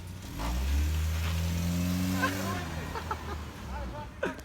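Chevrolet Camaro Z28 V8 held at full throttle, a loud sustained rev that climbs and holds steady before easing off, with a few voices speaking faintly over it near the end.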